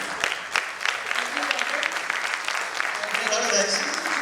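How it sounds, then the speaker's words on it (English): An audience applauds after a business talk on client retention, a sustained, fairly loud wash of clapping that fills the whole stretch with no pause. "We have a huge round of applause, please."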